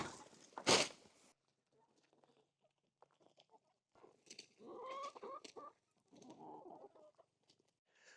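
Homestead chickens cluck and chatter in short bursts, one loud squawk first, then quieter scattered clucks nearby.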